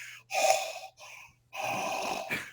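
A person imitates a bull elk's heavy panting: two long, breathy rasping exhales separated by a short pause, loud and close.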